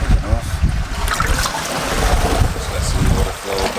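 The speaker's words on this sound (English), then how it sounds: "Just let some water flow back into the brush box." Water flowing back into a koi pond filter's brush box, a close, steady rushing and trickling wash with gusty, turbulent texture, partly under talk.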